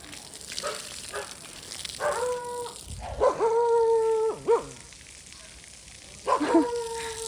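A dog at a village temple festival preparation gives a few barks and a drawn-out howling yelp, moderately near and fairly quiet, with faint background voices.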